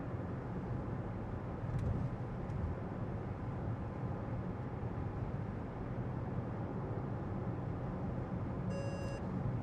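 A KGM Torres EVX electric car's lane-keeping warning sounds as a brief cluster of faint electronic beeps near the end, over a steady low road and cabin hum.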